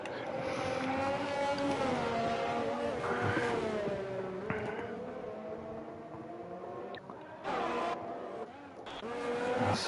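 Race cars on medium tyres, a Renault among them, lapping the Singapore circuit in a racing video game; steady engine whine with rising and falling pitch as the cars shift gears, loud and continuous throughout.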